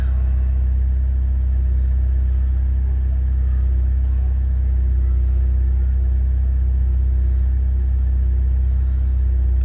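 A 2014 Chevy Cruze engine idles steadily with a deep, continuous low rumble, close and unchanging throughout, running after an oil and filter change.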